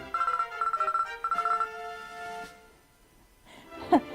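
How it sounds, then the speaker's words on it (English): A bright chiming level-up jingle from the video game Dragon Quest X, a short run of quick repeated tones played three times in a row, followed by quieter soft game sounds and a brief closing chime. "That's weird timing on that level up notification."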